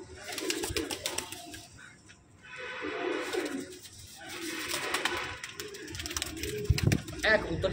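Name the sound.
pigeons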